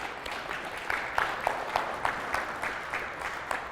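Moderate audience applause at a Saturday movement-health workshop, a steady patter of claps from a modest crowd, somewhat distant and even, with no talk over it.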